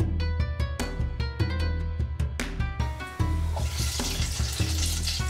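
Falafel frying in hot oil, a busy crackling sizzle that swells as more mixture drops in, close and loud, with clinks and clatter from utensils over a background of music.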